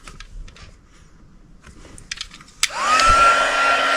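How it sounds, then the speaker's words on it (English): A heat tool for embossing switches on after faint rustling and clicks, then holds a loud, steady blowing roar with a rising whine as it heats up. It is close and there is no talk. "So I'm going to get my heat tool."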